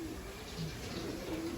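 Racing pigeon cooing inside a loft, a soft low continuous coo running throughout under faint background noise.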